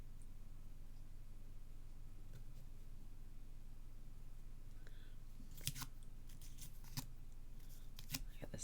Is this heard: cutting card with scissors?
yes